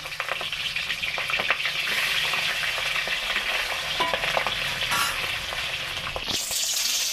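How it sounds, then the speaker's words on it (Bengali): Steady, loud sizzling of rohu fish heads and pieces frying in hot oil, with occasional crackles and pops and a brief utensil scrape near the end. "এবার আমি রুই মাছের চাকাগুলো দিয়ে এগুলো মুড়োগুলো আগে দিয়ে ভেজে নেবো।"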